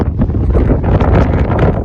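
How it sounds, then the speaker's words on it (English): Gusty wind buffets the microphone with a continuous low rumble and rushing noise, fairly loud and steady throughout, with no voices. "really windy out here, guys"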